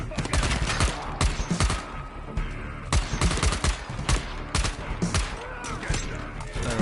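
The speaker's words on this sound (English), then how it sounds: "Where are they shooting from?" Enemy gunfire in Dying Light: The Beast, sharp rapid shots in irregular bursts, loud and close, with some talk mixed in.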